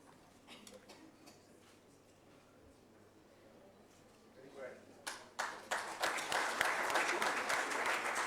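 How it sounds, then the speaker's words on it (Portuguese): At a signing ceremony for a Cape Verdean diaspora programme launch, a few scattered, faint claps give way after several seconds to a swelling, full round of audience applause. "Este momento merece uma salva de palmas."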